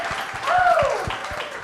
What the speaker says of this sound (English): Round of applause for Kieran